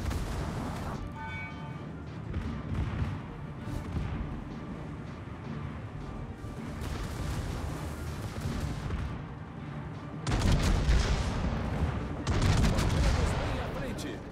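Heavy naval guns and secondary batteries boom in a warship game, a dense, continuous barrage of firing and explosions with louder volleys near the end, while someone talks over the action.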